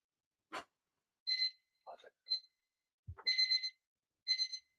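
A kitchen timer alarm sounds in short bursts of bright, high beeping that repeat several times, separated by pauses. Brief breathy vocal sounds come in between the bursts.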